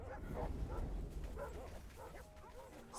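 Sled dogs in The Red Lantern bark, yip and whimper in a fraught, uneven chorus over a constant low rumble of wind or movement, with no talking.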